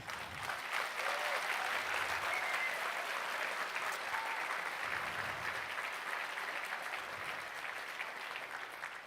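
A graduation commencement gala audience applauds its faculty with a dense, continuous round of clapping that holds steady throughout, heard from within the hall.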